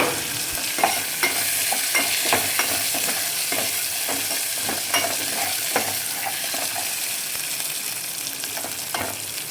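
Curry leaves and dried red chillies fry in hot oil for dal, a loud close sizzle punctuated by rhythmic spatula scrapes and clinks against the pan, with no talk.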